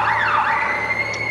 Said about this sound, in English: the barrage of police sirens has been repeated